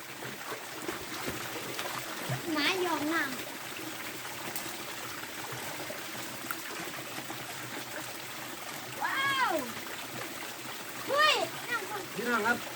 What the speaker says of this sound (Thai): ฟังเสียงน้ำตก